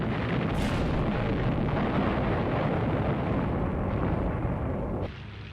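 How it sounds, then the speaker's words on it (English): Strafing gunfire from WWII Japanese Zero fighters attacking US aircraft lined up on island airstrips: a dense, continuous roar of rapid shots and blasts, loud and unbroken for about five seconds before dropping to a quieter rumble. "Japanese Zero fighters strafed US aircraft lined up on the island's airstrips."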